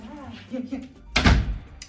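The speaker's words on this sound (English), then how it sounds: "I'll close the door behind you." A room door swings shut with a solid thud, loud and close, after a stretch of quiet talking.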